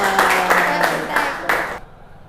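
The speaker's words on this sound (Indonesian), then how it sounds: "tepuk tangan" Students clap in a classroom, a short burst of dense clapping mixed with voices that cuts off abruptly near the end.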